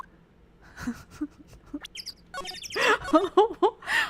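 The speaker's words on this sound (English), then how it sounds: "Yes, birds. Yes, I hear you." Birds chirp in a video game scene, starting with scattered faint peeps and swelling into a louder run of tweets and trills near the end, with no voices.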